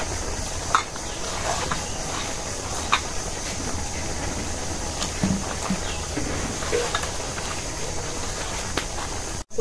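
Gram flour batter being stirred with water in a bowl, a soft continuous scraping and sloshing with occasional light clinks of the utensil against the bowl, fairly quiet and close, no voices.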